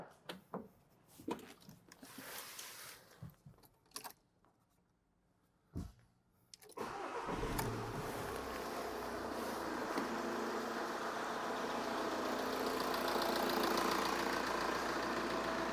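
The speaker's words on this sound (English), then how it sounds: "then we'll start the engine, we'll get even more communication" A car engine turns over after a few clicks and scrapes, then settles into a steady, moderately loud idle that runs continuously to the end.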